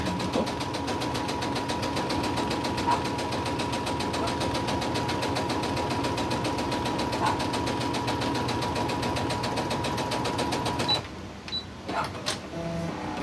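Sewing machine running steadily, top stitching a quilt block for crazy crumb quilting; a continuous, fast mechanical whir with rhythmic needle clatter, close and loud, stopping near the end with a few small clicks.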